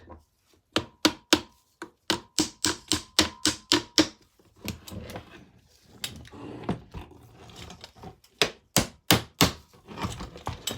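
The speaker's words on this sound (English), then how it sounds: "we have to just hammer it on and hopefully it gets..." A chain is hammered onto a $1400 RC bike during its build: a long run of sharp, evenly spaced metallic taps close by, then a brief looser patch, then another quick burst of strikes.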